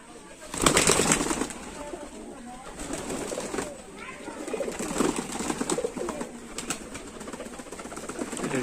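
A male Teddy pigeon in a breeder's loft coos in low repeated rolls amid other birds' calls and a loud flutter near the start, with someone talking over it.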